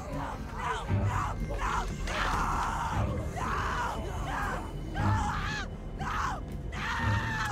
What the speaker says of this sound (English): I'm gonna need her to stop screaming.